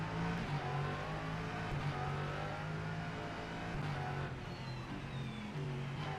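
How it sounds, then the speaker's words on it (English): A Ligier LMP3 race car runs in the racing game rFactor 2, giving a continuous engine drone with slight pitch shifts and a faint passing whine, with no talk over it. "So there is actually an LMP3 Ligier behind us"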